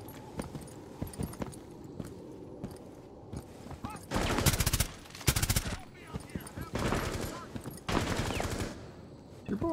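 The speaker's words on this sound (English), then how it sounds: "Don't know who's shooting." Gunfire in the video game Rainbow Six Siege comes in several loud, sharp bursts over quieter footsteps and movement, with a voice speaking at times.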